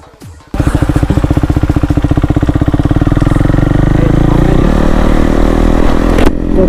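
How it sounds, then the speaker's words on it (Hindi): A KTM Duke 390 fitted with an SC Project aftermarket exhaust fires up and idles loud and close, its rapid, lumpy thumping pulses settling into a steady throb with no talking. "ये स्टॉक एग्जॉस्ट नहीं है, एससी प्रोजेक्ट का एग्जॉस्ट है।"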